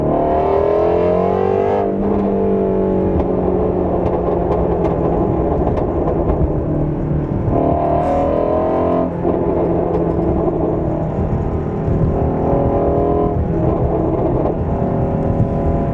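A Ford Mustang GT350 with a Corsa double X-pipe resonator delete holds a loud, steady throaty rev near 6,000 RPM, then falls and rises again with a crackling undertone of exhaust pops, close and alone without talk.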